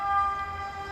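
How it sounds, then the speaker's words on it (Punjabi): An ambulance siren passes on a street in Italy, a steady wailing tone heard for about a second over a low background rumble, fairly clear but somewhat distant. "ਪਿੱਛੇ ਐਂਬੂਲੈਂਸ ਆ ਰਹੀ ਆ"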